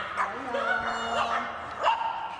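Several dogs yip and bark in short high bursts at a moderate distance, with a thin whine drawn out between the calls and a steady background hum.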